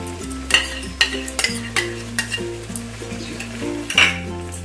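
Whisked yogurt going into kadhai chicken in a wok, with a moderate sizzle, clinking spoon strikes and scraping stirs against the metal pan at close range.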